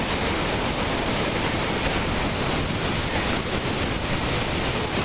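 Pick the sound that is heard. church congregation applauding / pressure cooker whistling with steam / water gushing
water gushing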